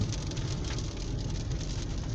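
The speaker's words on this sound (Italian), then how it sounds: "è iniziato a piovere" Rain falling steadily near Porto Empedocle, a continuous even hiss and patter with a low rumbling undertone, constant throughout with no talk.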